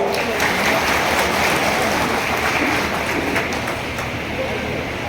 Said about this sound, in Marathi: म्हणून स्वतःसाठी टाळ्या वाजवा